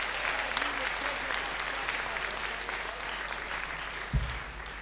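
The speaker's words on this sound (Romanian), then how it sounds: "Aplauze pentru Dora." An audience at a stand-up comedy show in Sala Maximilian, Buzău, claps in steady applause that fades slightly over time, with a low thump near the end.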